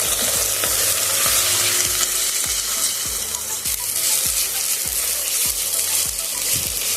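Onion paste frying together with sliced onions in a pan for spicy chicken kosha, a steady loud sizzle broken by regular scraping strokes of a spatula roughly every half second, with no voices.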